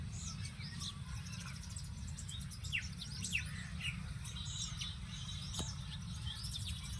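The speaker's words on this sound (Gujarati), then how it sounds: "દેશી ચકલી છે પણ એ પ્રજાતિ મોટી" Small native house sparrows chirp in quick, bright bursts scattered across a steady low background hum, fairly faint and distant, with no voices.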